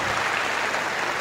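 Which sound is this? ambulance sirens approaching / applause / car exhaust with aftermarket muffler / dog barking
applause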